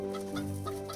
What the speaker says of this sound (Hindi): मदन को घर के बाहर एक मुर्गी की आवाज सुनाई दी।